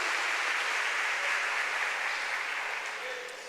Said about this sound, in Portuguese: Quantos podem aplaudir a Jesus por isso?